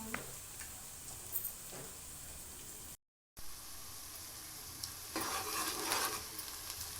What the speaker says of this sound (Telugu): ఉల్లిపాయలు మగ్గాలి. మగ్గే వరకు వెయిట్ చేద్దాం.